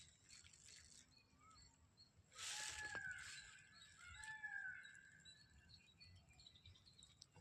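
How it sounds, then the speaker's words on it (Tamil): A distant peacock gives a couple of wailing, rising calls over quiet outdoor ambience and light rain pattering, after a brief rustle. "அதுதான் மயிலோட சத்தம் ஃப்ரெண்ட்ஸ்"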